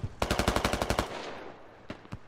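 Rapid automatic rifle fire during an assault on an insurgent stronghold, a loud close burst of about a dozen sharp shots in quick succession, then two more isolated cracks.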